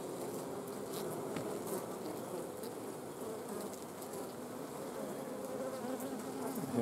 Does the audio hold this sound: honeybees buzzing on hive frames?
yes